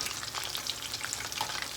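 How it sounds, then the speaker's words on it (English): Chicken pieces fry in hot oil for sweet and sour lo mein, a dense, even crackling sizzle with small pops as the pieces are gently moved around, with no one talking. "you see, it's not over frying. And I'm just gently moving them around"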